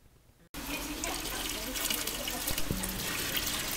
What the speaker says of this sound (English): The first step in using the machine is to fill it with water and then add the cleaning agent.